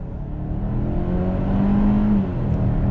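2021 Kia Sorento SX midsize SUV accelerating under throttle, heard from inside the cabin as a steady engine drone with a rising tone that swells briefly and then settles, no voices.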